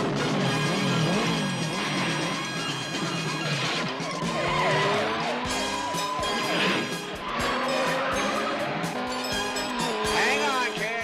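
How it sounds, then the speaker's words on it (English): Police cars skid through a high-speed pursuit, with tire squeals sweeping up and down over roaring engines, close and loud throughout under a busy action soundtrack. "he lost five MP cars in a high-speed pursuit"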